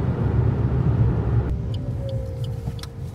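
Inside a 2020 Maruti Ignis petrol facelift on the move, a steady low road rumble fills the cabin, easing after a moment into a quieter hum with a faint whine and a few light clicks.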